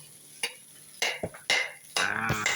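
Fried rice being stirred in a pan, heard as a few separate scraping, clattering strokes against the metal over a light sizzle. The sounds come in short bursts and play close and clear, with no talk.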